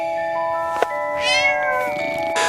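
A small cat in an animated fairy tale about Puss in Boots gives a clear, close meow, one drawn-out rising-and-falling cry with a brief extra chirp at the end, over light background music.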